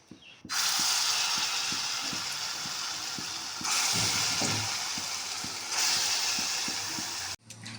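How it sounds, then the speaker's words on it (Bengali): Gram flour fritters frying in hot oil, a loud continuous sizzling hiss in long bursts broken by brief pauses, with a steady rhythmic mechanical ticking underneath. "বেসন বড়া প্রায় হয়ে গেছে"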